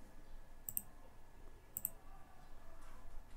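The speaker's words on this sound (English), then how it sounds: "you can change the direction by clicking this arrow" Two sharp computer mouse clicks, about a second apart, while working in CAD software, close and faint over a quiet room hum.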